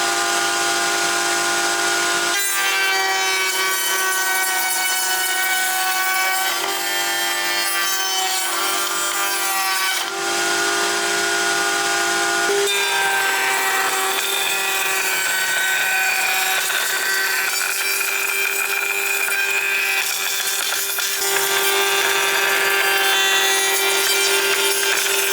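A power saw cuts rebates in reclaimed timber for a National super beehive, running loud and steady throughout with brief shifts in tone as each cut begins and ends.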